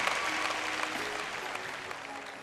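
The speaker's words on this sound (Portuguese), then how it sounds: "Dê uma salva de palmas ao Senhor" A church congregation claps together, loud and dense at first and slowly fading, with a few voices mixed into the applause.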